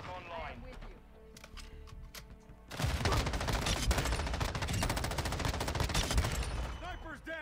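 Rapid automatic fire from the M13B rifle in Call of Duty: Modern Warfare II, a dense sustained burst that starts abruptly and runs loud for several seconds, with quieter game sounds and a voice before it.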